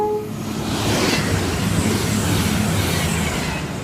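A train passes straight through platform 2 at Cheddington station on a service from Chester to London Euston, giving a loud, close, steady rushing roar that holds for several seconds.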